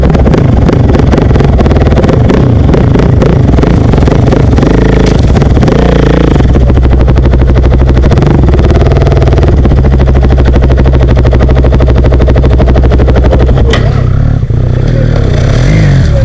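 A motorcycle engine runs loudly and unevenly just after being started, with rough idling and revving bursts, clattering and shouting voices over it throughout.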